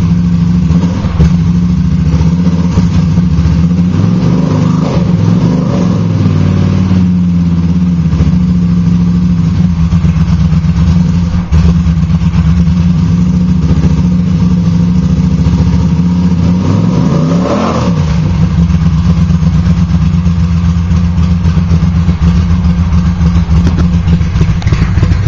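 A Honda CX500 motorcycle with no mufflers runs close and loud, its raw exhaust droning steadily with a couple of rising revs partway through.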